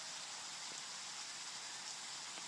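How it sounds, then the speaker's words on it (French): Steady rain hisses in the zombie survival game Zombie Forest 3, an even, unbroken wash of noise with a few faint ticks near the end. "C'est bien, il pleut, je me régénère."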